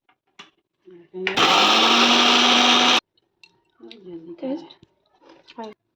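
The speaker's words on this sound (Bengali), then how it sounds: "তো সর্ষেটা পেস্ট করার জন্য মিক্সিতে দিয়ে দিয়েছি। এবারে ওটা পেস্ট করে নেব।" A kitchen mixer grinder whirs loudly for about two seconds, grinding mustard seeds, white sesame and peanuts into a paste for steamed hilsa, with talk before and after.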